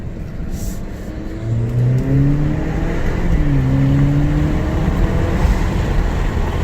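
A 2.0 Alfa Romeo Giulia fitted with a Eurocompulsion V2 intake pulls hard under acceleration, its tone climbing through gear changes with a loud, steady roar and some whooshing air noise.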